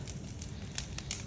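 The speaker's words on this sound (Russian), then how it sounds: "И сейчас вот жгу костер." Garden bonfire of pruned blackberry canes, fruit-tree trimmings and dry branches burning outdoors in spring, giving a steady low roar with scattered sharp crackles and pops, close and alone.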